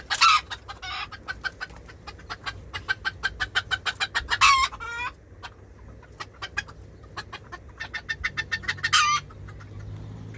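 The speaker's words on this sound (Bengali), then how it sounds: "সেই মোরগটাই আমি আজকে ধরবো" A domestic country rooster in a home yard clucks in rapid bursts of close, sharp calls, pausing between rounds and ending in a longer squawk, with no talking.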